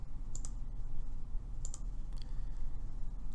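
A computer mouse clicks several times, sharp and close, in small pairs spread across a quiet room background.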